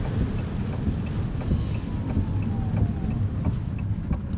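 A 2024 Fiat 500e electric car driving along a road, heard from inside the cabin as a steady low rumble of tyre and road noise with faint hiss and no engine tone, continuous throughout.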